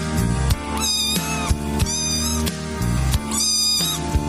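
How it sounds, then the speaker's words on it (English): A cat meows repeatedly in loud, drawn-out rising and falling cries, three distinct meows spaced across a few seconds over a steady musical or droning background. "You can even bring your cat."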